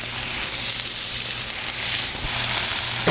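Marinated steak sizzles on a preheated Blackstone griddle outdoors, a steady close, dense frying hiss with a low hum underneath and no talking.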